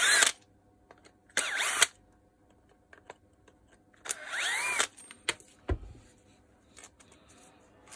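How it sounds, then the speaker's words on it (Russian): Screws come out of a Makita DDF485 cordless drill as a screwdriver makes several short whirring bursts, mixed with light clicks and taps from handling the tool up close. "Откручиваем 4 винта."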